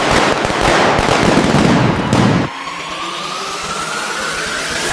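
Loud, rapid firecracker bursts crackle for a couple of seconds and then stop abruptly, leaving a faint ringing hum and quiet background.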